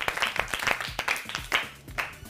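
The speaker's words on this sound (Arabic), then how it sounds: "صفقوا له مرة ثانية" A studio audience claps for a child, with bursts of applause in irregular rhythm, fairly close and moderately loud, with no talking over it.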